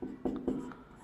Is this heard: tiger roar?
no